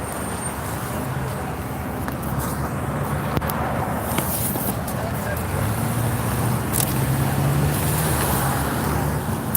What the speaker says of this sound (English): Look at all the police driving by.